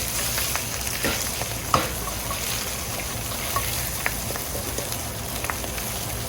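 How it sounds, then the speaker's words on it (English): Soft shell crabs and inch-long scallion pieces stir-frying in a hot pan give a steady, close sizzle with scattered crackles and a few clinks as the pan is kept moving, with no talking. "you're gonna want to go ahead and add all of your crabs in, along with the inch pieces of scallion, and you're just gonna keep this moving"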